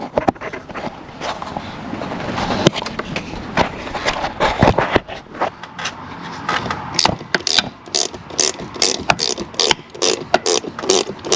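A ratchet works a bolt loose during a 3.6L engine swap on a Jeep Wrangler, with rapid metallic clicking in short bursts up close, getting busier toward the end over faint garage background.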